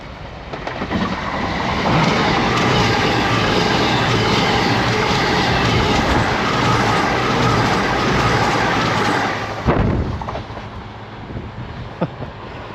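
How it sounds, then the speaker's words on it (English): A cross-country Voyager diesel train passes at Dawlish Warren in winter, a loud, close rumble and rush with rhythmic wheel clatter that swells, holds for several seconds, then cuts off abruptly as the last carriage clears. "Here comes a train."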